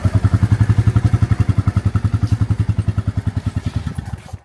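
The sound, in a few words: motorcycle being brought out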